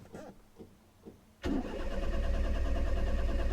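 A few faint cranking pulses, then a 1991 Honda Acty kei van engine catches abruptly and settles into a steady, rough idle close by.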